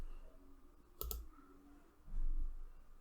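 Computer mouse clicks during spreadsheet formatting: a sharp pair of close clicks, followed by a softer, duller click-like rustle a second later, near and fairly quiet, with no talking.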